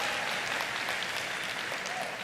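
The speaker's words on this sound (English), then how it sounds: "Give a round of applause for UJFM." Audience applause for UJFM, a campus radio station, at a university academic opening and first-year welcome ceremony, a dense steady wash of many hands clapping that stays loud and even throughout.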